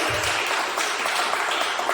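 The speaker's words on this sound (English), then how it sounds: "Can we give him a round of applause for that?" Audience applause at a real estate investment mixer in Buckhead, a steady dense burst of clapping, loud and continuous throughout.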